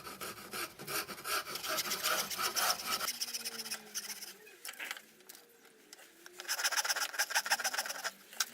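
Wooden pattern for a 6-inch pulley smoothed with a file, rhythmic close rasping strokes in bursts with a quieter pause between, faint voices in the background.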